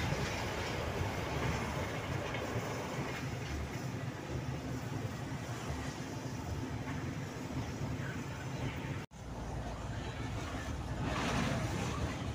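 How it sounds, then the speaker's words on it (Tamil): A train passes close by, heard from inside a TNSTC Ashok Leyland low-floor bus near Sulur and Somanur. A steady, loud rail rumble with rhythmic clickety-clack carries on alone for several seconds. "ரயில் போயிட்டுருக்கு பாருங்கள்."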